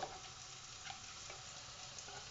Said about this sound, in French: Mes oignons ils cuisent là-bas.